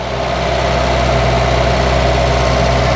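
A UAZ Bukhanka van engine idles steadily and loudly, a continuous low rumble with a constant hum and vibration throughout, with no one speaking.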